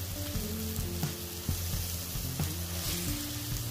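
A burger patty mixed with jalapenos, onions and minced garlic sizzles on a hot flat top griddle, a steady close crackle with a low hum underneath and occasional pops, with no voices.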